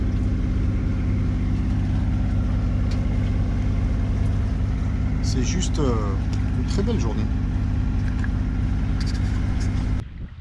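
A sailboat's motor runs steadily while cruising along the rugged Minorca coast, a constant low mechanical hum throughout, with someone speaking briefly over it before it cuts near the end.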